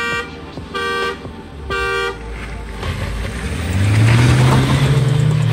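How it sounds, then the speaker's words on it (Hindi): Several short car horn toots in a row, followed by engines revving up loudly and building into a roaring acceleration at the start of a drag race between lined-up cars. "तीन हॉर्न बजाते ही रेस पकड़ेंगे"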